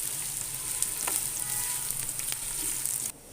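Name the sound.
frying sliced onion in a pan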